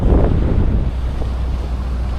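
Strong wind buffets the microphone on the Surigao coast, with a broad rushing roar of sea waves, loudest at the start and then easing to a steady wash.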